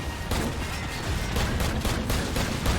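Rapid bursts of gunfire from a weapon in Call of Duty 4: Modern Warfare crack in quick succession, loud and dense, with sharp repeated shots over a continuous rumble of battle.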